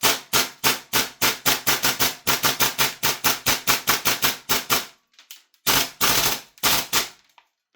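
Secutor Centurion II gas blowback airsoft rifle, an MWS clone, firing 0.25 g BBs from a Tokyo Marui STANAG magazine: a long rapid burst of sharp, loud mechanical cracks, a brief pause, then a few more quick bursts, with no talking.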